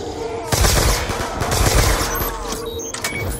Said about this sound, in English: Hey, let me shoot a few of them.